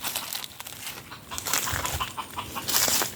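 A red junglefowl (labuyo) calls in the provincial outdoors, giving clucking, squawking notes close by over a rustling background, with no one talking.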